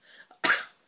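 A single sharp cough, close and fairly quiet, follows a little faint breathing.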